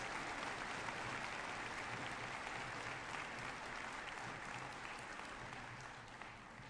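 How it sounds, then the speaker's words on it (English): Sustained applause from a large crowd at a conference opening ceremony, a dense steady clatter of clapping that carries on for several seconds and eases slightly toward the end. "A very warm round of applause to our President."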